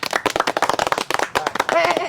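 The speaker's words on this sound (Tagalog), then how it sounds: "Namalakpak malagi sila." Children clapping in quick, uneven bursts, close by and mixed with lively chatter and voices throughout.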